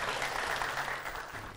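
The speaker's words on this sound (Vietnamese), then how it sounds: "Xin khán giả một tràng vỗ tay thật lớn lên ạ." Audience applause at a Vietnamese stage show, a continuous dense wash of clapping held steadily throughout at moderate volume, with no talk over it.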